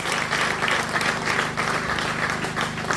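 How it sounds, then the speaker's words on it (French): A church congregation claps and cheers loudly at a healing and deliverance service, with dense, sustained applause filling the room throughout. "Acclame très fort pour Seigneur Jésus."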